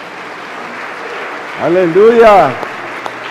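A congregation in a Spanish-language church service claps steadily in the background while a voice rises in a loud, drawn-out exclamation partway through.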